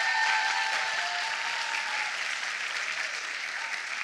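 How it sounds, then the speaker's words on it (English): Dense applause for competing debate teams at an honors debate showcase fills the room, loud and continuous at first and then easing slightly. "I want everybody to give our teams a round of applause."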